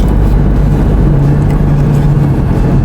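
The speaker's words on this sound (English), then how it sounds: "Another car coming through." A car passes on a dark road at night, a loud steady low rumble with a sustained engine hum throughout, no voices over it.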